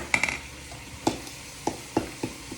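Brown sugar, cinnamon and flour being mixed for a crumble topping, a handful of soft scraping strokes at irregular intervals, close and fairly quiet with no talking.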